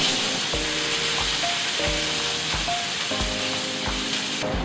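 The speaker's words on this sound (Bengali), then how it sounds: "পেঁয়াজগুলো হালকা সতে হয়েছে।" Chopped onions, one large onion for a bread upma, sauté in a pan with a steady, loud sizzle and crackle, and a utensil clinks at regular intervals.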